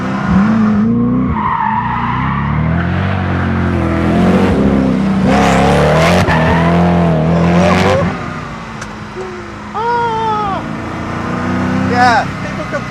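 A Koenigsegg Agera supercar is driven hard around a small track, its engine revving up and down in rising and falling howls with tires squealing through corners, loud and close throughout.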